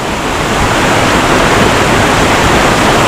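Waterfall in Infanta, Quezon, a loud, dense, steady roar of falling water filling the whole clip without pause, close and with no voices.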